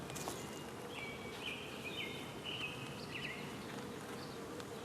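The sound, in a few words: honey bees buzzing during hive inspection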